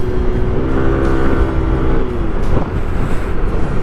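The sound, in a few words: Yamaha NMAX Turbo scooter engine braking without brakes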